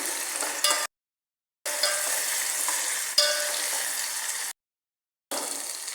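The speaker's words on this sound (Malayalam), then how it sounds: "ഇതെല്ലാം കൂടി ഒന്ന് വറുത്തെടുക്കണം." Onion, ginger, green chili and curry leaves roast in a pan for parippu vada, a bright crackling sizzle heard in three stretches separated by abrupt silent gaps.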